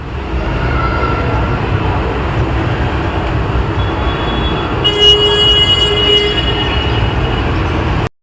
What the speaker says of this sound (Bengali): আর আমি এখানে দাঁড়িয়ে দাঁড়িয়ে ট্রেন দেখছি।